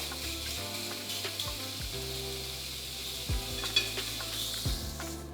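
Beef sears in a hot pan for tataki, a continuous close sizzle with a few light clinks and scrapes of the pan throughout.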